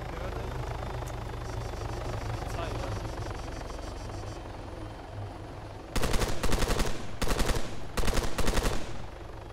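A helicopter in the video game Arma 3 drones with a steady rotor and engine hum, then bursts of loud rapid gunfire break in over it toward the end.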